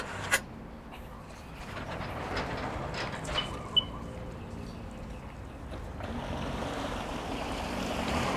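A Sea-Doo 3D jet ski runs out on open water, its engine a steady droning roar mixed with wind and splashing, with a few sharp knocks along the way.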